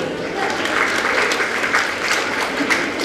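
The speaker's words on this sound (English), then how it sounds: "Put your hands together, audience" An audience at a school award ceremony for World Arabic Language Day claps in steady, dense applause that holds loud throughout.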